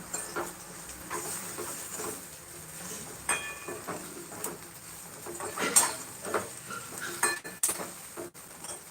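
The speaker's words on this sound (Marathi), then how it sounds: "आता ही आपली भेंडी घालायची म्हणजे छान परतून घ्यायचं" Okra being stir-fried in a pan, soft sizzling under clinks and scrapes of a utensil against metal, irregular and close, growing busier toward the end.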